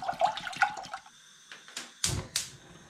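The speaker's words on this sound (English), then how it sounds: "Now I'm going to add spring water into this saucepan." Spring water pours into a saucepan in short splashing bursts, then pauses before a couple of louder gushes; close and clear with no talk.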